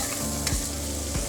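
A spoon stirring a pot of parsnip and coconut milk velouté with a waxy potato, a steady close scraping and swirling over a gentle sizzle, with no voices.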